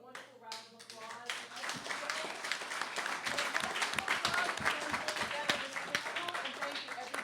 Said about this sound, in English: Can we just give a wonderful round of applause?